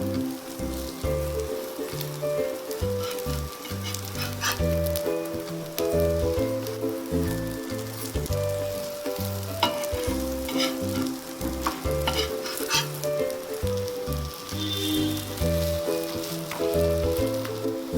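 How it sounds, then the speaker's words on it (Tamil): Aval (poha) cutlets shallow fry in oil in a pan, giving a dense, continuous crackle and spatter that holds at a steady level for a long stretch, close and loud, with no voices. "லைட்டா மேல எண்ணெய் ஊத்திக்கோங்க. ஒரு பக்கம் வெந்துருச்சுன்னா இன்னொரு பக்கம் திருப்பிக்கோங்க."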